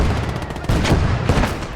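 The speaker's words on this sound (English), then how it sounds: "We're taking a ton of crap from mortar fire here." Mortar explosions and gunfire in the video game Legion of the Damned: a dense, loud rumble of booms and rattling shots, with several sharp impacts rising out of the steady barrage.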